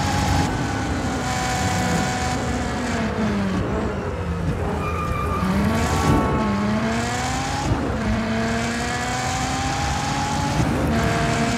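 A car engine in the video game Just Cause 4 revs and shifts through gears with rising and falling tones, a steady synthetic-sounding motor drone running throughout with no talking.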